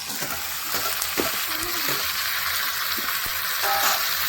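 Chopped onions frying in a pan on a home kitchen stove, a loud continuous sizzle with occasional scraping stirs of a spatula.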